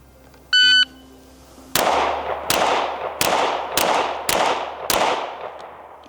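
Outdoor handgun practice: a short electronic shot-timer beep, then six sharp, loud pistol shots at an irregular, fairly quick pace, each with a long echoing tail.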